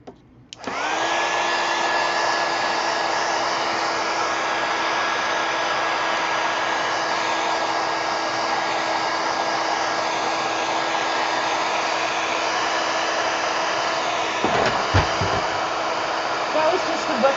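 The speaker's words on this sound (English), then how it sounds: "All right, heat gun." Heat gun blowing hot air for a craft project, one steady loud whoosh that starts abruptly and runs continuously near the microphone, with a brief handling disturbance near the end.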